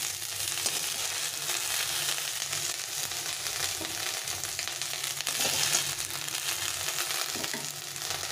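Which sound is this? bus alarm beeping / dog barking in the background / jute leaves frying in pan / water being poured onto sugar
jute leaves frying in pan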